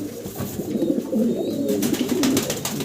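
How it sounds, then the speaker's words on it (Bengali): Two fancy pigeons, one Andalusian-coloured, coo continuously in low, throaty, rolling calls, close by, with faint background noise and no talking. "দেখেন দুইটা কবুতর কি চমৎকার দেখতে।"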